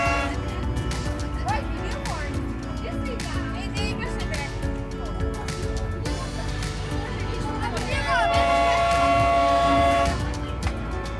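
The Darjeeling toy train on the line from NJP rolls through the loop with a rattling, rumbling run. A horn sounds in sustained tones near the end, while people talk over the train noise.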